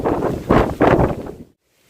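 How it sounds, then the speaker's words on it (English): Strong gusts of wind buffet the microphone in a backyard container garden of pea plants, loud rumbling bursts that cut off abruptly into near silence. "Look how windy it is."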